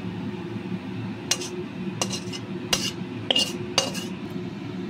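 Fried bread pakoda being lifted out of a pan, a handful of separate metallic clinks and scrapes of a utensil against cookware over a low steady background.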